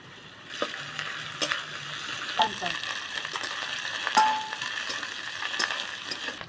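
Ginger garlic paste hits a pan of reddish fried lote fish and sizzles steadily, with a few sharp clinks and stirring scrapes over the hissing oil.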